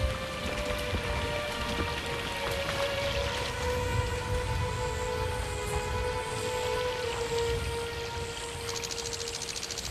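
Steady rain in the video game Zoo Tycoon 2 patters on surfaces as a dense, even hiss, with faint insect-like chirps and a thin sustained tone running underneath.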